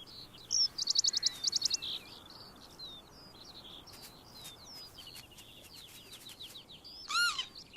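Young skylarks and their parents calling on the Western Isles of Scotland in summer: a quick burst of repeated high chirps early on, then scattered thin calls and a final loud note, fairly near over quiet ambient background.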